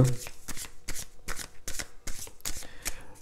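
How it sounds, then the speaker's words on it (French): Tarot cards being shuffled by hand, with a steady run of close, crisp riffling bursts about every half second. "Alors, on y va avec le tarot"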